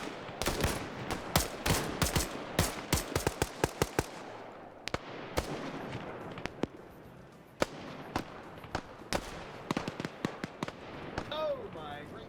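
Video game firefight with dense volleys of gunfire and sharp bullet impacts striking a tree, rapid cracking shots clustered early then scattered single snaps, fairly close and loud over a muffled background.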